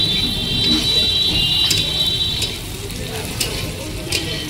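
Butter chicken ingredients fry in a pan with green chillies, giving a loud, dense, continuous sizzle heard up close with a faint spattering crackle and no talking.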